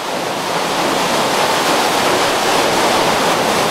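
Steady, loud rushing roar of a waterfall dropping from above at a rural community's drinking-water source, continuous broadband white noise with no voices.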